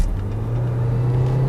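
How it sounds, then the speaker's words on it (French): A Renault Espace with a 160 hp engine pulls hard under full throttle, a steady mid-low engine drone rising slightly as it accelerates, heard from inside the car with no talk. "Il s'est passé 2-3 secondes avant que la voiture comprenne que je voulais mettre les gaz"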